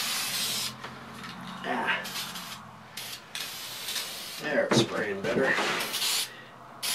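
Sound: spray paint can spraying a carved sign

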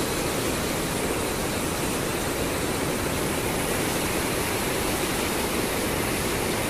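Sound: Jaldhaka river flowing

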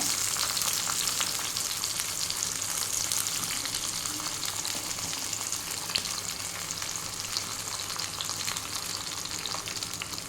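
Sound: tomatoes frying in oil

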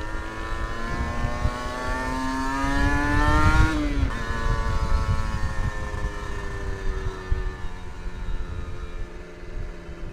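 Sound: Kawasaki Ninja 250 SS 2012 motorcycle engine while riding

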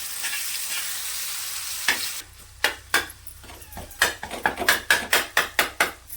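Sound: tomatoes frying with caramelised onions in pan

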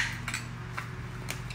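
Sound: spoon being set down

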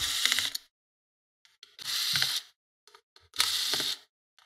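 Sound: removing screws from Lenovo ideapad 110 laptop heat sink

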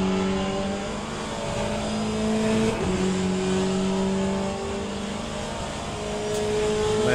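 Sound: race cars on the straight in video game Le Mans Ultimate

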